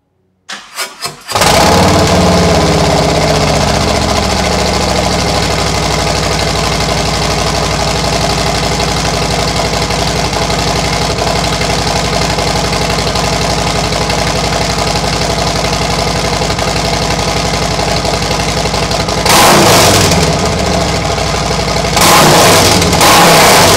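An engine fitted with a Tab Performance 50 Cal Z-Ring exhaust cranks and starts, then settles into a loud, steady, rumbling idle for about twenty seconds, followed by a couple of short throttle blips near the end.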